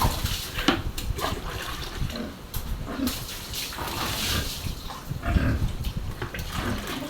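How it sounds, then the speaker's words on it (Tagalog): Pigs being bathed with water, a continuous dense wash of splashing and spraying close by, with faint grunting or snorting mixed in and no clear talk. "Tapos na po namin paliguan yung baboy."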